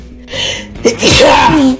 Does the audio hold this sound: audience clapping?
no